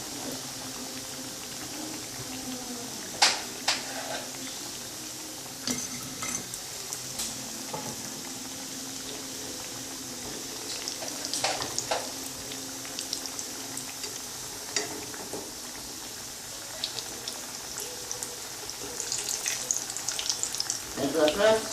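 Algerian amdakel cakes fry in a pan of hot oil with a steady, soft sizzle and bubbling, broken by occasional clinks and handling noises close by.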